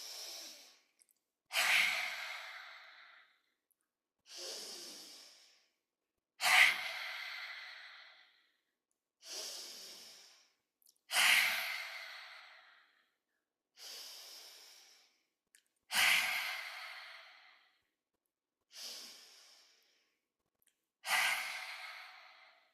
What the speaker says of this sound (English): we'll be breathing in through the belly and through the nose